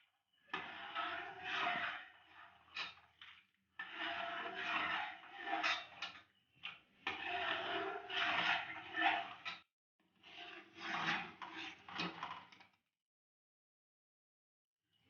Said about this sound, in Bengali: তালের রসটা দিতে হবে আর সমানে নাড়তে হবে